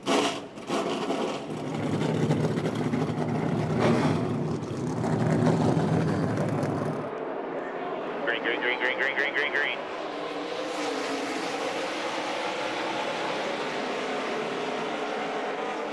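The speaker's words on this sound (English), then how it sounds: "Drivers, start your engines!" NASCAR stock car engines roaring at a race, a loud dense engine drone for about seven seconds, then thinner, more distant engine noise with a brief rattling burst, without talk.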